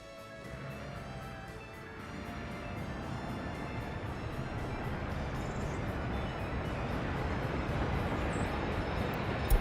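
A passenger train rolls along the rails in the city-building game Workers and Resources, a steady low rumble with faint clacking that swells slightly over about ten seconds, heard alone without talk.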